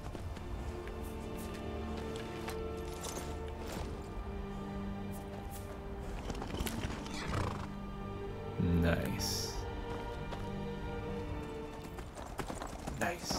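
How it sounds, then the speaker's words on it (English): Horse hooves clip-clop steadily while riding in the Skyrim video game, a continuous rhythmic trot under game music, with someone talking over it. "Just riding a horse."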